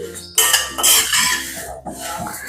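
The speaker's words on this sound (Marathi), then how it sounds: "आता मंद आचेवर भाजून घ्यायचे" Flattened rice (poha) being stirred and roasted in a pan over low flame for chivda, with scraping and clinking of a spoon against the metal pan in irregular bursts, close and fairly loud, no talking.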